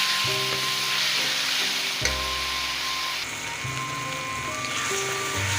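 Chicken frying in oil and spice masala in a pan, a steady close sizzle with faint stirring scrapes and a brief clatter partway through, no talking.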